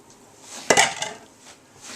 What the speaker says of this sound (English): And then just mix it up.